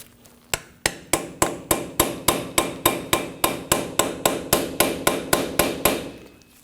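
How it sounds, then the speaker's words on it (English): Steady series of about twenty sharp metallic hammer taps on a wheel hub dust cap being pried off a 2009-2014 Ford F-150 front hub, evenly spaced, loud and close with ringing decay and no talk. "Just give it some taps while prying out on it."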